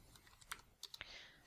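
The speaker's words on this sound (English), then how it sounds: "typing hello." Keystrokes on a computer keyboard while editing text in a WordPress block editor, a quiet sparse burst of several separate clicks at an uneven pace, heard close and alone.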